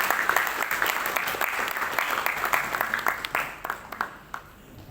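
A congregation applauds during the ring exchange at a church wedding ceremony, with a steady patter of many hands clapping at moderate volume that thins out toward the end.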